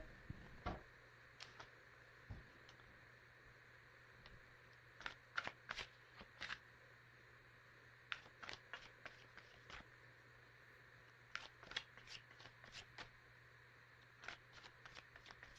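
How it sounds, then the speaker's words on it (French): Tarot cards are shuffled and handled close up, a quiet scatter of crisp flicks and riffling clicks coming in irregular clusters over a low steady hum, with no voice. "je vais prendre d'autres cartes"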